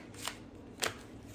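Tarot card decks handled and put away, producing two quiet, brief riffling card sounds spaced apart, faint and close with no talking.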